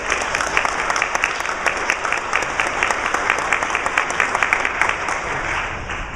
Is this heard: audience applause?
yes